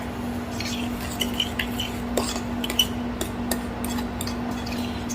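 A spoon scrapes and clinks against a pot while potatoes with unflavored almond milk are stirred, several irregular metallic taps over a constant low hum, close and moderately loud.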